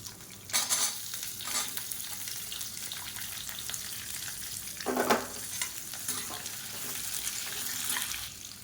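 Sliced onions frying in oil with chana dal and urad dal, stirred with a few scraping bursts over a faint, steady sizzle, quiet and close.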